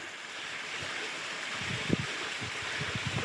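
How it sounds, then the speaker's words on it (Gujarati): Steady rushing of water from a small waterfall in the Ratanmahal forest in February, a small cascade splashing continuously, with a few soft low thumps and gurgles mixed in. "વોટરફોલના નામે આ જ છે અહીંયા"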